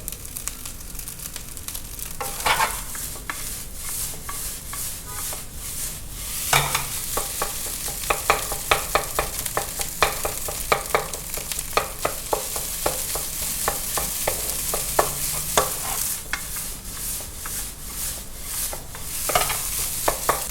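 Alligator fried rice stir-fries in a hot pan with a constant bright sizzle, broken by repeated clanks and scrapes of a utensil against the pan, close and loud with no talking.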